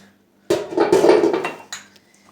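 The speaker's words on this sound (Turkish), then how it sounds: "Yemeği pişirirken ben bulaşığımı hep yıkıyorum" Dishes from the evening meal are washed under hot water, with a short, close burst of clattering pots and plates and rushing water, then a single lighter clink.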